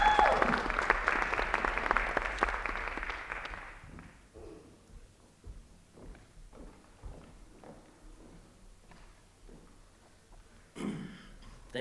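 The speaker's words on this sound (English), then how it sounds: "Applause" Audience applause at a civic talk on race and local history in San Antonio rises loudly, then thins into scattered claps and fades over several seconds before a brief renewed burst near the end.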